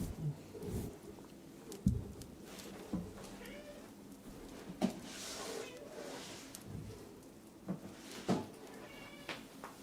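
A house cat meows unhappily, over and over, in short, insistent cries. They are fairly close but soft, with a person talking quietly in between.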